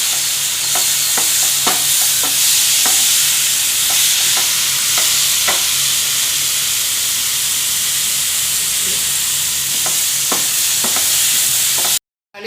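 Chopped tomatoes sauté in a hot pan for restaurant-style butter chicken, a steady loud sizzle broken by repeated scraping strokes of a stirring spoon, with no talking, ending abruptly.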